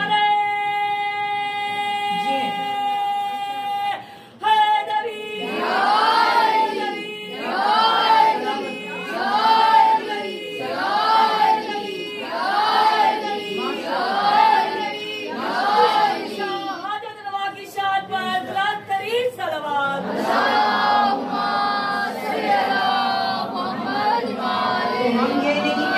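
At a religious majlis gathering, a crowd chants slogans of Ya Ali in rhythmic, repeated loud call-and-response bursts, with a sustained tonal sound at the start and voices rising together again at the end.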